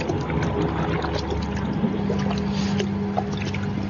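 Water pours and splashes continuously over a person from above, a steady close trickle and spatter that runs without pause under a faint low background hum.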